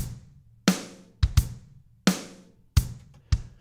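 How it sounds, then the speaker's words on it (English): Logic Drummer virtual drum kit with fully closed hi-hats, tight short ticks riding a beat of punchy kick and snare hits, close and clear with no voices. "If I set them all the way down so they're closed,"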